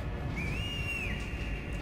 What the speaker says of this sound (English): Loud whistle.